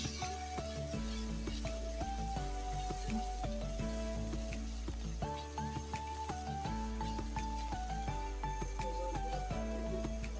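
Chopped tomatoes cook in a covered pot for chicken biryani, giving a steady sizzle under loud melodic background music that runs throughout.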